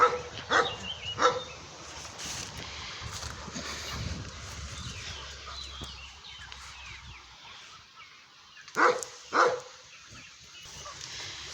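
A dog barks in two quick pairs, one at the start and one near the end, with quiet outdoor background noise in between.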